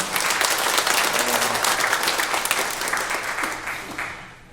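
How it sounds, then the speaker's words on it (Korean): A church congregation applauds its newly ordained deacons with sustained, even clapping from many hands that fades slightly toward the end, with little talk. "우리 안수 집사님 위해서 박수 한번 해주시겠습니다."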